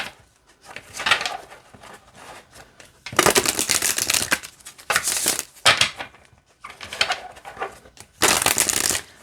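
Repeated bursts of flexible cardstock cards riffling and snapping together as a deck is shuffled, several loud flurries separated by short pauses, close up with no talking.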